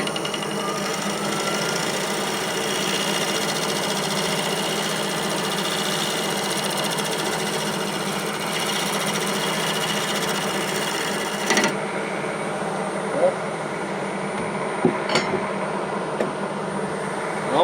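Bowl gouge cutting a spalted maple bowl on a wood lathe: a continuous rough, buzzing whir of the cut with a constant motor hum, changing in tone near the end with a few knocks, close and without talking.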